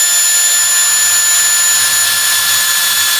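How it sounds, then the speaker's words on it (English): A power drill whines steadily through material, a constant high-pitched mechanical buzz with no pauses, close and loud. "drilling through this material"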